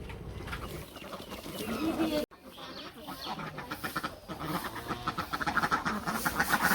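A flock of ducks quacking close by in the afternoon at feeding time in a village, in rapid, overlapping bursts that grow busier toward the end, with a voice faintly underneath.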